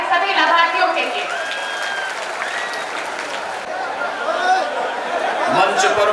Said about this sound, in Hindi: बहुत जोरदार तालियां हमारे सभी लाभार्थियों के लिए।